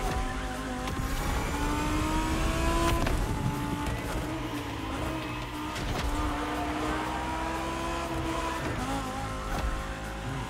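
Race car engines roar continuously in The Crew Motorfest, a Lamborghini Egoista among them, with rising and falling revs, gear shifts and tire noise through corners, loud and close throughout.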